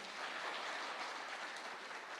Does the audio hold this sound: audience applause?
yes